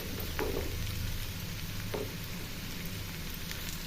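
Okra fry with peanuts, chili powder and salt is stirred in a hot pan, giving a continuous close sizzle and crackle with soft scraping strokes of the spoon and no talking.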